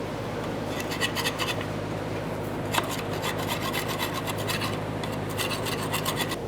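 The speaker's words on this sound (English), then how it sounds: "To clean this out of here, we're going to use a scraper." A hand scraper works old gasket material off the exhaust pipe flange of a 1992-1996 Toyota Camry, making a continuous rasping scrape in repeated strokes, close and fairly loud.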